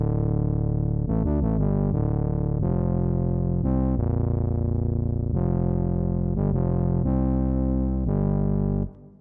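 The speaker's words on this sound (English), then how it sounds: "The first sound we have is this bass" A buzzy, harmonically rich synth bass made with Ableton's Analog plays a choppy sequence of sustained and stuttering notes, loud and alone, ending abruptly.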